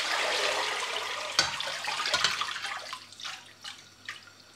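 Water drains and trickles off freshly harvested and rinsed allotment vegetables, a steady wet splashing with a couple of sharper sloshes, then thinning into scattered drips and small trickles.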